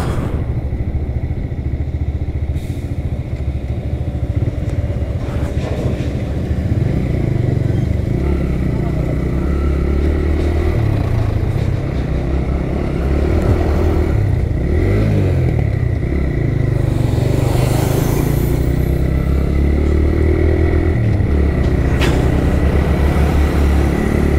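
A motorcycle riding the rough Bardghat–Daunne road, its engine droning steadily up close with occasional revving and clattering over bumps, under a rider's talk.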